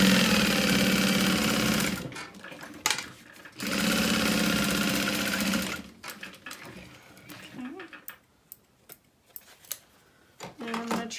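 Sewing machine basting wristlet wallet pieces together, running in two loud continuous bursts with a pause between, then quieter handling clicks and fabric movement afterward.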